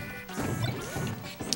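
A crunching down smash hit lands in a Super Smash Bros match, a sharp game impact followed by a second clattering blow and brief scattered effects.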